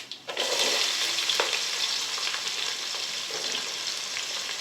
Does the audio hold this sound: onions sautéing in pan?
yes